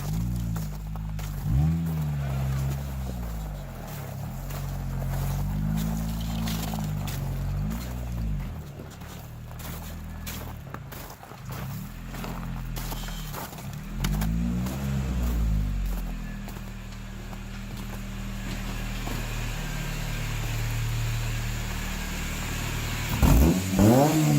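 A Honda-engined buggy revs repeatedly without Vtec engaging, its engine note rising and falling in a series of loud, close revs with harmonic sweeps, then settling to a steadier drone.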